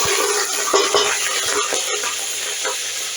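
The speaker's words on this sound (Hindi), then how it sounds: "प्याज को मैं बिल्कुल भी ब्राउन नहीं करूँगी, बस थोड़ा सा हल्का सा इसको ऑयल में" Chopped onion frying lightly in two spoons of cooking oil for a dhaba-style mixed vegetable curry, a steady close sizzle with occasional soft stirring scrapes and clinks throughout.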